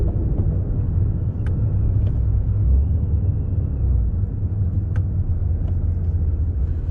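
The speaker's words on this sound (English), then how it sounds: "This downshifting into every gear" A Ford GT350 with a newly built engine and freshly installed clutch gives a deep, steady engine rumble with small shifts in pitch, as though downshifting, and a few faint clicks over it.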